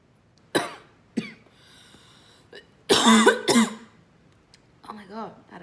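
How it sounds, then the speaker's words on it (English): A woman coughs repeatedly in sharp bursts, two early single coughs then a louder, rapid cluster mid-clip and a final softer fit, close up with quiet room between. "now I can't stop fucking coughing"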